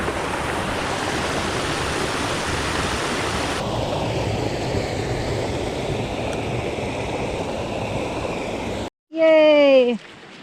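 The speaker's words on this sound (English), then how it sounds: "We're finally back at the river." River water rushes steadily and loud in the foreground for most of the stretch, a broad continuous wash that drops out abruptly near the end, where a short burst of other sound takes over.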